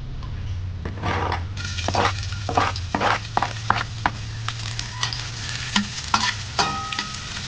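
Onion or garlic sizzling in a pan while a utensil stirs and scrapes, steady frying hiss under repeated clattering strokes, close and without speech.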